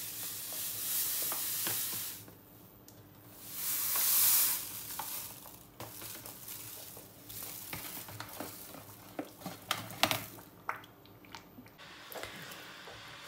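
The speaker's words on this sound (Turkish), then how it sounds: "Bunu da şöyle bir güzel karıştırıyorum." Aşure pudding stirred in a pot, a soft wet scraping and sloshing that comes and goes in uneven strokes, fairly close, with a louder burst partway through and no one talking.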